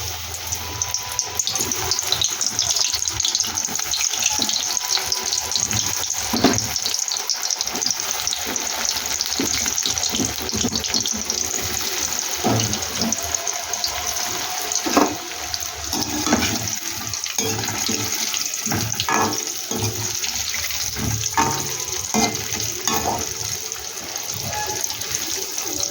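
Food sizzles steadily in hot oil for a long stretch, a dense crackling hiss with occasional clinks of a utensil.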